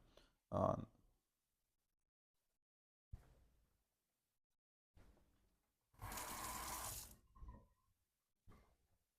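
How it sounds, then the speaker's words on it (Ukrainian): Hot water pours steadily over coffee grounds for a couple of seconds, with some short clinks and knocks before it and a faint trickle afterward. "Так, додаю кипяточку."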